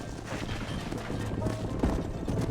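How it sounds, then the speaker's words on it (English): A horse in Red Dead Redemption wades through water, with splashing, sloshing hoofbeats and game ambience close and continuous, plus a couple of sharper splashes near the end. "Nossa, tá difícil de cavalgar aqui na água, hein?"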